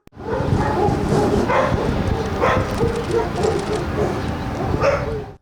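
A stressed yard dog, brought from Crimea as a puppy and now rescued, yips, barks and whimpers repeatedly and close by on its first walk, with some faint outdoor noise behind.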